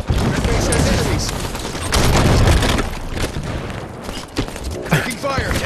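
Heavy, continuous gunfire and booming explosions in a Halo 5 Big Team Battle multiplayer match, loud and chaotic, with in-game announcer voices mixed in.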